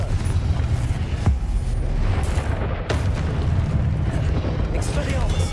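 Repeated Confringo spell blasts in Hogwarts Legacy, heavy rumbling explosions and pops over a constant roar of combat, with a voice calling out spells now and then.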